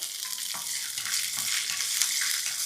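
Green peas frying in hot oil with green chili and curry leaves for a spicy, crispy snack, a steady close sizzle with faint stirring scrapes throughout, no voices.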